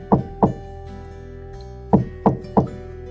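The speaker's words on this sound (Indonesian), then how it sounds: "suara ketukan pintu pun terdengar kembali" A door is knocked on twice, then after a pause three more times, loud, hollow and close, as a sound effect in a spoken horror story.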